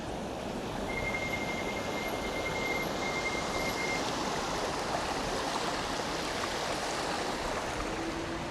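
A flowing creek rushes steadily as an e-bike rolls slowly across it, a continuous broadband wash of moving water, close and even, with no voices.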